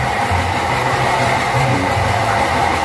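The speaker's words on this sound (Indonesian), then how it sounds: "Ini bumpernya diturunin, jadi bunyi gelodak-gelodak." Loose, lowered front bumper on an Isuzu Panther driven over rough, heavy terrain, rattling and knocking steadily under a continuous rumbling road and engine noise, close and fairly loud with no talk.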